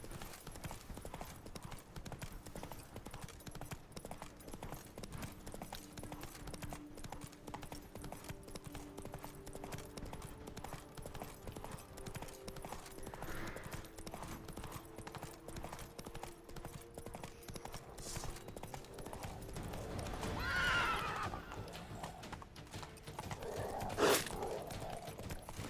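Roach the horse in The Witcher 3: Blood and Wine, hooves clip-clopping steadily at close range under game ambience, with a brief neigh or snort near the end, no talking.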